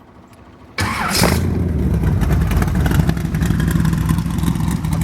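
A 383 stroker V8 with a high-lift cam in a 1929 T-bucket hot rod cranks and fires up with a sudden roar, then settles into a loud, lumpy idle close by; a voice speaks briefly beforehand.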